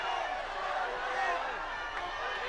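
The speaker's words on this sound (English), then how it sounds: "The crowd is going wild." Crowd noise at a URCC mixed martial arts fight in Manila, a steady roar of cheering spectators beneath loud commentary voices throughout.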